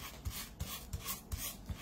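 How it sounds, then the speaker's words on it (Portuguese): Rough side of sandpaper rubbed over a glued surface on a vintage chest being restored, a rhythmic rasping scrape repeating about every third of a second, close and clear with no talking. "Sempre a parte crespa da lixa."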